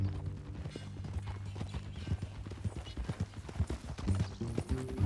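Horse hooves clip-clop in a steady walking rhythm, close by, with a low tonal hum underneath and a faint whinny near the end; from the video game Red Dead Redemption 2.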